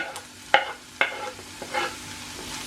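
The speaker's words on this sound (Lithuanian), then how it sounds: "Ir pamaišydami taip pat apkepam kokią minutę." Garlic sizzling in oil in a pan with onions for braised pork ribs, stirred with a utensil; a few sharp scraping clicks of stirring stand out over a soft, steady frying hiss, close and fairly quiet.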